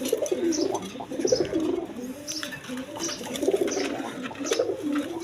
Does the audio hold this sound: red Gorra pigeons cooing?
yes